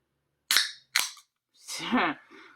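A can of Bang energy drink is cracked open with two sharp pops close by, followed by a fizzing hiss as it vents.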